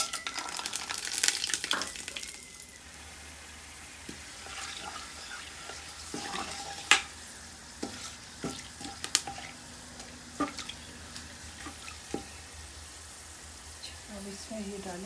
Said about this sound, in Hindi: ऑयल में हम ये साबुत गरम मसाले डालेंगे